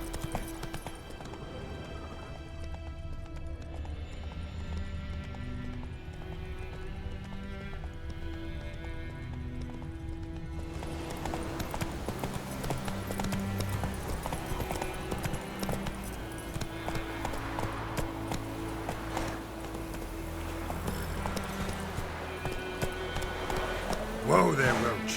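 Roach the horse galloping in The Witcher 3, steady clip-clop hoofbeats running under continuous music and game ambience, with a character's voice speaking.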